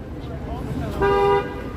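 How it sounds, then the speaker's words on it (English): Car horn honking in Toronto city traffic during the late-afternoon rush hour, one sustained steady toot lasting under half a second, close and loud over a constant street rumble and faint voices. "Honk some more."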